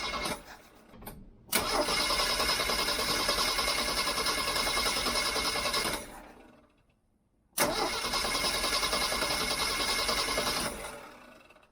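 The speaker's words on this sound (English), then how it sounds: "I'm going to crank it a bit to get some fuel around, and we're going to see if this thing will start" Jeep CJ-7 fitted with a Weber 32/36 carburetor cranking over in two long bursts of steady, loud starter churn, separated by a short pause, the engine not catching into a clear idle.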